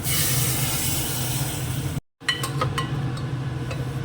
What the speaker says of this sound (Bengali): এবার ডালটা ঢেলে দেবো